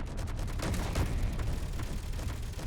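Space Engineers turrets firing at an enemy ship: a continuous, dense rattle of rapid gunfire with muffled booming impacts, steady and moderately loud with no talking.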